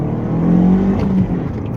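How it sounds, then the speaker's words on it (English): Dodge Dart car with a misfiring turbocharged engine accelerating under throttle, a loud, rough, wavering drone heard from inside the car, with no talk. "Let's give it some gas."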